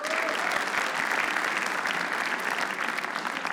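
A live comedy-roast audience claps loudly and steadily, a dense wash of applause from a close crowd that holds at full strength for a few seconds.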